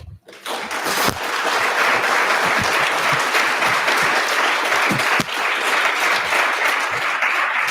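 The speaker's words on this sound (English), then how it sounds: "I would ask another round of applause for him" Loud, sustained audience applause in a hall following a speech at a Law Day event, a dense wash of many hands clapping that swells after a brief quiet start and continues steadily to the end.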